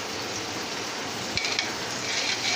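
Garlic-ginger paste hits softened onions in a hot pan, giving a steady, even sizzle throughout with a brief stir or clink midway.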